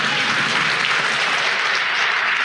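A church congregation claps during a sermon, a steady dense burst of applause filling the room with no talk over it.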